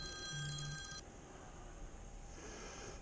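A telephone rings outdoors during a drone flight before a blizzard, a short burst of electronic ring tones lasting about a second over steady background hiss, then only the hiss.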